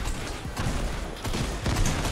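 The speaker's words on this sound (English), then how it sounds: "Who's using a gun?" Gunfire in a Fortnite match, a dense, rapid burst of shots sustained across the whole moment, fairly loud with no voice over it.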